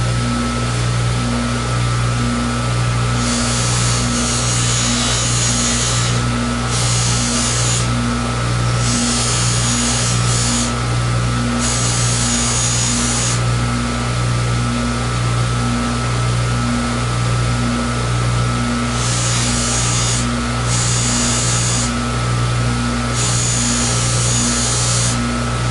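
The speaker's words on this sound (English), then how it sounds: "I'm just polishing the mechanism tube" A flute's mechanism tube pressed against a spinning polishing wheel, a loud steady motor whine with bursts of brighter, harsher grinding as the tube meets the wheel, repeating over and over.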